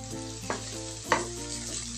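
Shallots, garlic and chilies frying in hot oil in a Teflon pan produce a continuous close sizzle, with two sharper spatula knocks against the pan and no voices.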